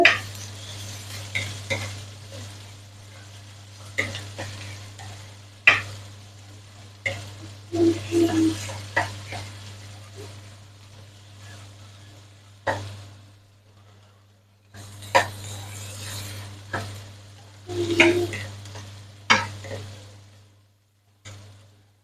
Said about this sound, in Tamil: வெள்ளை பொடு வெங்காயத்தை கொட்டி நல்லா கிளறி விட்டுக்கொள்ளுவோம் கிளறி இந்த எண்ணெயில் வதங்கணும்